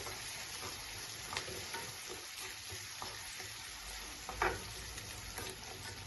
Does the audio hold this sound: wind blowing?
no